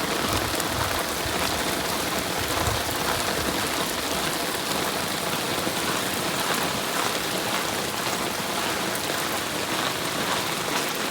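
Heavy summer rain pours down outdoors as a dense, steady hiss of drops hitting surfaces, loud and constant throughout with no letup.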